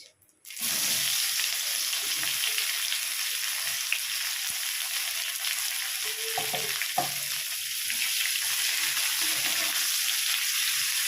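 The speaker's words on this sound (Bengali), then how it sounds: "এবার ওই একই তেলের মধ্যে ফোড়নে দিয়ে দিচ্ছি কিছুটা জিরা, দিয়ে দিচ্ছি দুটো তেজপাতা, একটা শুকনো লঙ্কা, দিয়ে দিচ্ছি কুচিয়ে রাখা পেঁয়াজ" Chopped onion frying in hot oil with cumin seeds, bay leaves and a dried red chilli, a steady close sizzle running throughout with a few brief stirring knocks near the middle.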